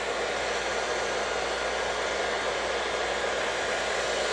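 A hair dryer runs steadily on a warm, low-blow setting while relaxed hair is being blow-dried and straightened, giving a continuous, close, even whoosh of air that holds level from start to finish with no talking.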